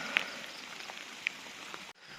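A steady hiss of rain falls on a rainy morning during a motorbike ride in rural northern Laos, quiet and continuous, with a couple of sharp drop ticks standing out.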